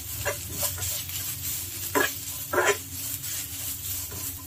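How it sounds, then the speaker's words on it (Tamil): Grated coconut roasting in ghee in a pan, a low steady sizzle with a few scraping stirs of a spoon, the strongest two coming close together near the end, heard up close without voices. "இந்த நெய்யில் வறுத்துக்கு போகிறோம்"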